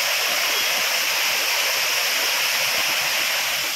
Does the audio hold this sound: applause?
no